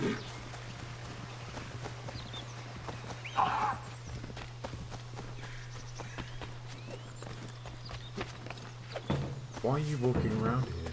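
A horse in Assassin's Creed 3 clip-clops along at a walk in soft, steady hoofbeats under a constant low hum, with brief talking and a louder burst of noise near the end.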